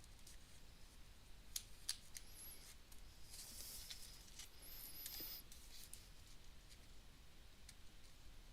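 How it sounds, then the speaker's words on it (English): Scissors snip out a paper chase card star, faint close clicks and short crisp cuts scattered across a quiet room. "let's cut out another chase card star."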